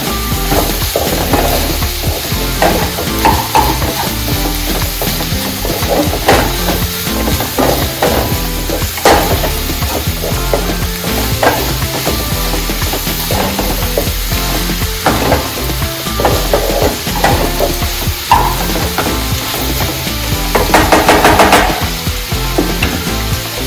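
Egg curry sizzling and frying in a pan, steady loud crackle throughout with occasional scraping stirs of a utensil against the pan.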